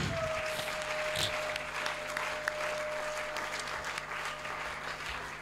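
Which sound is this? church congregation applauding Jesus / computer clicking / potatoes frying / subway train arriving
church congregation applauding Jesus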